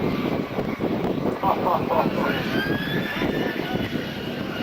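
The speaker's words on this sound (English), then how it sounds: "it looks to me like Dale is on a takeoff roll in the F-86" An F-86 jet fighter rolls for takeoff at an Andrews AFB air show, a steady, broad engine roar with a rising whine, heard at a distance while an announcer talks over a public address system.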